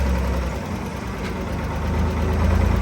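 A Ford 3000 tractor engine runs steadily close by, a dense low rumbling drone with a slightly rough, knocking texture and no voices over it.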